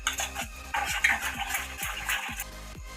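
A spoon mixes Maggi pakora batter with spices and egg in a bowl, with rhythmic, repeated scraping and clinking strokes, close and steady, with no talk.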